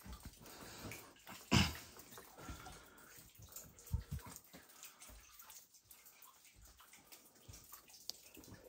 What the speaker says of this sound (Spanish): Es un nacimiento de agua, ahí va.